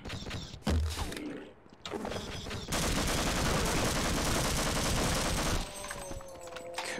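Sniper rifle gunfire in the game Half-Life rings out in loud, sharp blasts with a long stretch of dense crackling fire, separated by brief quieter gaps.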